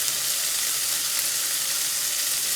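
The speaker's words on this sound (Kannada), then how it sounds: "ಟೊಮೆಟೊ ಹಾಕಿ ಸ್ವಲ್ಪ ಮೆತ್ತಗಾಗೋವರೆಗೂ ಇದನ್ನ ಫ್ರೈ ಮಾಡಬೇಕು" Chopped tomatoes frying in hot oil in a pan, a continuous bright crackling sizzle, steady and close throughout with no voices.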